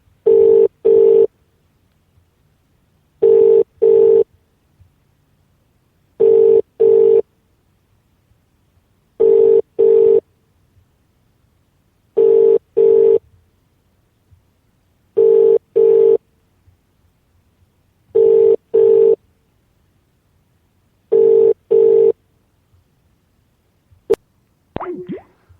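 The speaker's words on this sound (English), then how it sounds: "Please say your name after the tone, then wait to be connected." Telephone line tones during a phone-in radio call waiting to be connected: short paired beeps repeating at a steady rhythm about every three seconds, loud and clear with silence between, no talking.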